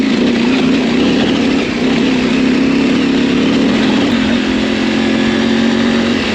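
An adventure motorcycle at a rally climbs a rocky trail, its engine droning loudly and steadily close by, with a strong low hum that stays even throughout.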